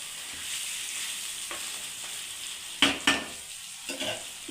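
Chicken roasting in a pan, a steady frying sizzle with a few sharp scraping stirs of the spoon toward the end.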